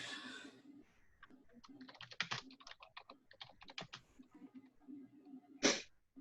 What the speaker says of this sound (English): I'm going to type what we just discussed in the chat box